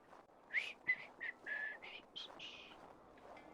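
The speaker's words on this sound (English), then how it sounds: "Someone's whistling." In the Assassin's Creed Valhalla video game, someone whistles a short tune of about seven distinct notes, some clipped and some held. The whistling is soft and slightly distant over a quiet background.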